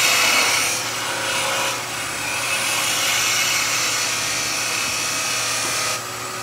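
A skew chisel cuts relief detail into a wooden Christmas nutcracker spinning on a lathe, making a continuous rasping hiss over a steady motor hum, with a few short dips as the tool shifts.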